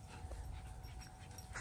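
A dog pants close by in quick, breathy puffs, faint and short, and no one talks.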